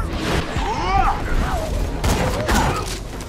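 Rapid-fire gunfire from a gun in the video game Borderlands 2 crackles in dense bursts alongside whooshing and mechanical game effects, with a voice talking over it.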